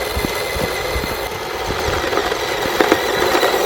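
A small LDRC LD1299 RC car's electric motor whirs at its second, quicker throttle setting, a steady close buzzing whine with light ticking and rattling from the chassis and wheels, a few louder bursts near the end.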